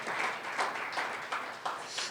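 Faint applause from a church congregation during a Spanish-language Easter sermon, a soft continuous patter of clapping heard at a distance.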